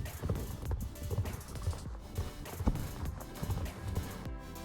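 Rhythmic clip-clopping of bouncy horses' hooves in a video game, a steady trotting beat over background game music, fairly close and moderate in volume, with no talk.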